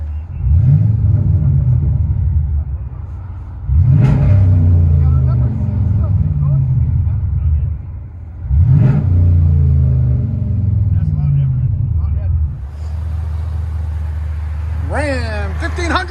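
A 2017 Ram 1500 with a 5.7L HEMI and dual Cherry Bomb Extreme exhaust revs hard three times, each surge rising to a deep, loud burble before falling back to a rumbling idle, with brief speech near the end.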